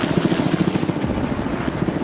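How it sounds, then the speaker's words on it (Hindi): A helicopter close by on a private island, with its rotor thumping in a steady, rapid rhythm that stays loud and constant and has no speech over it. "ये हेलीकॉप्टर हमारे बॉयज को ऊपर हवा में ले जाएगा"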